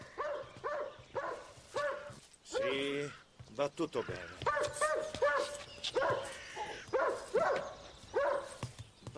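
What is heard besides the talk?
dog barking and whimpering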